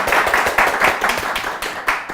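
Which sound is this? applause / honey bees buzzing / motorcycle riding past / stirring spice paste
applause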